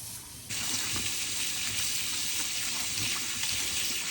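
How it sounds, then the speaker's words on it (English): Running water from a tap rinses a Stihl 500i chainsaw air filter, a steady close gush that switches on abruptly after a brief quiet moment and continues evenly without talk. "I'm going to go ahead and get it under the water and start cleaning it."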